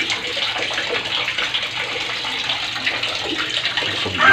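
A DIY waterproof flashlight is dunked in water, giving a continuous close splashing and gushing rush with no pauses and no voices.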